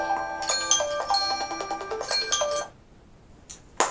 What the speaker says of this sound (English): Blooming phone. It never stops when I want it to stop.